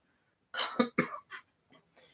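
A person coughs several times up close, a cluster of harsh, throaty bursts followed by a couple of softer trailing coughs.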